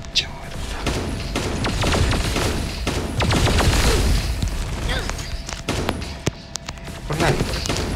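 Gunfire and explosive thumps from the T3 Arena video game, a busy run of rapid shots and booms layered over a constant rumble, with a person talking over it.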